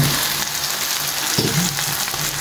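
Diced potatoes frying in a hot pan over high flame give a steady, close sizzle throughout, with a brief soft stirring scrape near the middle and no talk.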